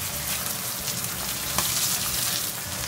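Bangus (milkfish) frying in a pan makes a steady, close, dense sizzle that holds at an even level throughout, with no voices.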